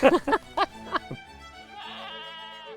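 A mother goat on a farm gives a quick run of four or five loud, close bleats, then a softer, drawn-out cry trails off.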